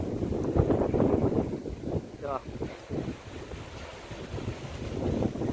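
Strong wind roars steadily across an open farm field just before the season's first monsoon rain, loud broadband buffeting against the microphone throughout, with brief voices heard faintly underneath.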